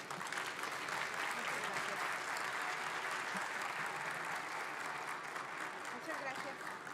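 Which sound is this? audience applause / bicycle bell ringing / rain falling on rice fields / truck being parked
audience applause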